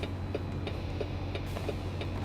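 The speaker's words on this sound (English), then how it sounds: "You can hear the clicking of this shifter an awful lot, especially in this old Kenworth with a million gears" Rapid, regular clicking of the gear shifter in an old many-geared Kenworth truck in American Truck Simulator, a steady ticking pattern sitting over a constant low engine drone with no talk.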